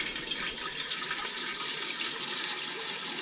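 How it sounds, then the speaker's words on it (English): Water pours steadily from a watering can onto garden plants in dry weather, a continuous close splashing hiss without pauses or voices. "I'm trying to water things with a watering can"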